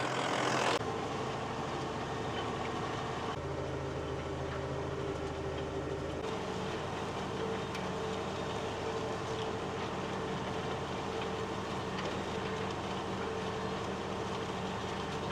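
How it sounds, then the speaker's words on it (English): A tractor engine running steadily during ploughing, a continuous low mechanical drone with a faint rattle, heard from a moderate distance throughout. "Back to the tractor."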